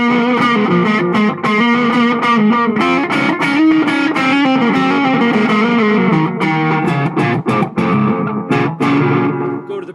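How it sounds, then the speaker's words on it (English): Electric guitar with heavy distortion played through an Ibanez DE7 delay/echo pedal, loud sustained chords and riffs with echoing repeats, steady and dense for the whole stretch with brief gaps near the end. "Throw a little bit of distortion into the mix."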